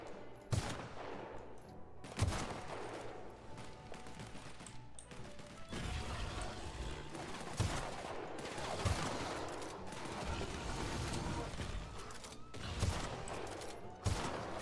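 Hunting rifle shots in the sci-fi role-playing game The Outer Worlds, sharp moderately loud cracks recurring every second or two amid other combat clatter and mechanical noise, with no talking.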